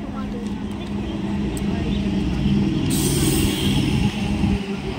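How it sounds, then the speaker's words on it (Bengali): A passenger train pulling into a station on the homeward journey from Notun Gram near Katwa rumbles low and steady from on board, with a brief hissing swell partway through. "এখন আমাদের ট্রেন স্টেশনে ঢুকছে"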